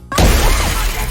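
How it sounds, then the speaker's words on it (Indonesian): A car window's glass is smashed in The Invisible Man (2020) film, a sudden loud shattering crash that sustains with scattering debris for about a second. "Adrian muncul dan langsung memecahkan kaca mobil Emily."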